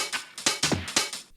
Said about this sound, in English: I've added another really lo-fi hi-hat loop, but without any effects I put on it, it sounds like this.